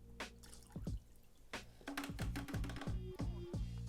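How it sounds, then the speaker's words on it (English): Water drips and trickles as a planted aquarium is partly drained, with a few soft splashes and gurgling drops falling in an uneven rhythm, close by and fairly quiet. "go ahead and drain a little bit of this water"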